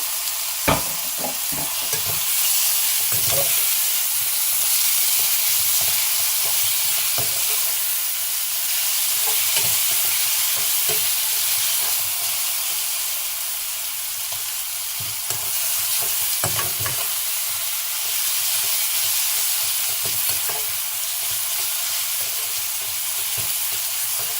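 Tomatoes sizzle loudly in a pan with onions and masala for a Sindhi masala karela, giving a steady hiss of frying broken by scattered clicks and scrapes of stirring, with no voices.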